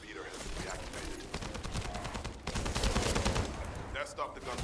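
Gunfire in the shooter game The First Descendant crackles in rapid bursts and sustained automatic volleys, fairly dense and steady, mixed with game effects at moderate level.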